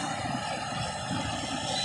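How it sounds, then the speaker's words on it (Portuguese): A drone flies over a beach, making a steady, dense propeller whine and buzz that holds level throughout with no breaks or voices. "Um voo rapidinho porque o drone já tá descarregando."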